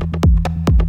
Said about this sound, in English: you can use a combination of, for example, 2 sine waves pitched differently.